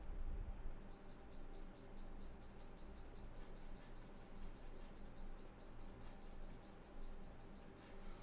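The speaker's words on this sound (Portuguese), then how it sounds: "Clique do mouse." Rapid mechanical clicking of a computer mouse button runs steadily throughout, a dense, close ticking pattern repeated over and over, with no voices.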